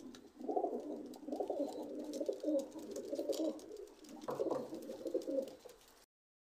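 Pigeons coo in a continuous low, throaty rolling murmur at a loft of imported-bloodline high-flying pigeons, several birds overlapping with a brief pause midway and no talk.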